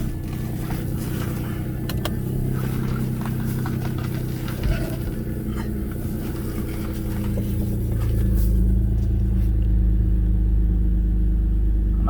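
Audi A6 C5 being driven, steady low engine and road rumble inside the cabin that grows heavier and louder toward the end, no talking.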